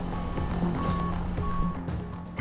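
A concrete delivery truck beeps steadily in reverse at a large slab pour, a regular run of tonal beeps over a rumbling diesel engine and site noise.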